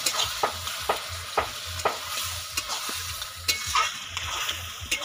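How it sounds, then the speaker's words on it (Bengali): A thick Bengali banana flower curry (mochar ghonto) with potatoes sizzles in a pan while a spoon scrapes and stirs it in a steady rhythm of close, repeated strokes. "এবার আমি এর মধ্যে জল দিয়ে দেবো জল দিয়ে দিচ্ছি আমি"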